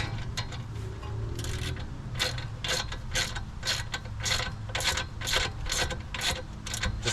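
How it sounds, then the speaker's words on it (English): A ratchet wrench runs down the caliper adapter nuts on a brake job for a 7th-generation Honda Accord, giving a fast, close series of rhythmic clicking pawl strokes. "So let me get the wrench set to 40. And we're actually going to get those all the way on."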